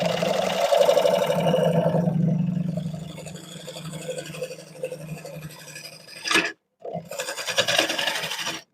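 Wood lathe turning a cypress bowl, the gouge rasping steadily against the spinning wood with a hot, frictional rub, loud and continuous before easing, then cutting out briefly and resuming.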